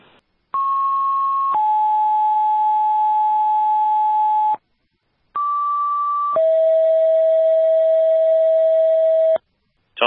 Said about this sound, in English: Tones are for Surrey and Gilsum.